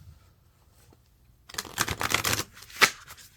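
Tarot cards are shuffled up close after a quiet start. A quick flurry of papery riffles and snaps builds and ends in one sharp slap of the deck.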